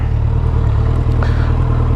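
A warmed-up 2008 Suzuki Hayabusa motorcycle idles close by after sitting for over a year, giving a loud, steady, low engine drone with no change in pitch.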